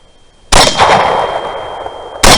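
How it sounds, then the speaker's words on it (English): A rifle fires a Berger VLD hunting bullet at a hog during a night thermal hunt. One loud, sharp report rings out and rolls on for more than a second, followed by a second loud burst right at the end. "I get a shot through the neck here."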